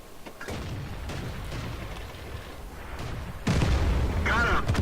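A tank cannon fires in World of Tanks, a single heavy boom with a long rumbling tail followed by a second louder blast near the end, while someone talks over the game sounds.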